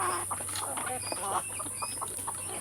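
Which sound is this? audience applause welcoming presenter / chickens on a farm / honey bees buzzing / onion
chickens on a farm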